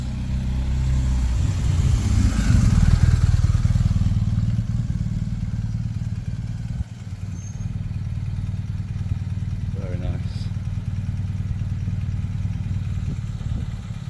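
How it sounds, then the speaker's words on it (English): A police motorcycle rides past on a street in wet weather, its engine rumbling loud and close for several seconds before settling into a steady drone under traffic noise, with a voice speaking over it. "oh, nice police bike."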